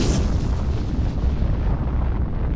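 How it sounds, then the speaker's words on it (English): Atomic bombs exploding in the Fallout 4 game trailer, a loud, sustained deep rumbling blast that rolls on heavily and fades slightly toward the end. "Where will you be when the atomic bombs fall?"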